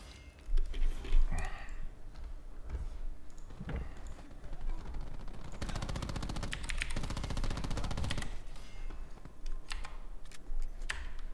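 Rapid automatic gunfire from the video game Call of Duty: Black Ops 4 rattles in dense bursts, mixed with clicking keyboard and mouse taps, while a player talks in between.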